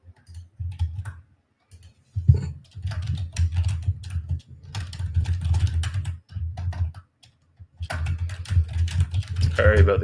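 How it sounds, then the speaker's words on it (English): Computer keyboard typing at a trading desk, loud and close, with dense bursts of clicks continuing through most of the stretch, broken by short pauses. "Sorry about the keyboard. I need to get a quieter one."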